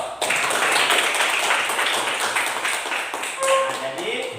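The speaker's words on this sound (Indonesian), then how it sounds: "mari kita berikan aplaus" A classroom group breaks into sustained applause, many hands clapping together in a dense, even patter that holds steady for several seconds before a short voice cuts in near the end.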